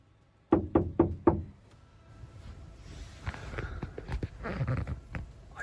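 Four sharp, loud knocks in quick succession strike a van door at night, followed by quieter scattered taps, shuffling and low rustling close by.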